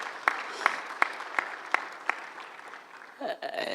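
Audience applause at a fintech strategy launch event in Rwanda, sparse and rhythmic claps at first that thicken toward the end, moderately loud with a brief voice near the close.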